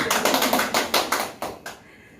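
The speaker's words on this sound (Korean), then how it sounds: "박수 좀 쳐주세요" Brisk, close hand clapping in a steady rhythm during a live broadcast for lifelong-education instructors, about nine bright claps that slow and taper off into quiet, with no voices over them.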